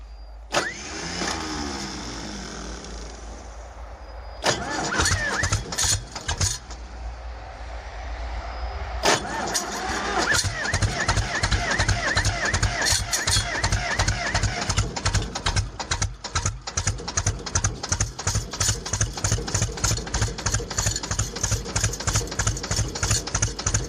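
Ursus C-330 tractor diesel engine cranking and catching after a hard start, then running at full throttle with a loud, close, rapid chugging beat that grows more even over time.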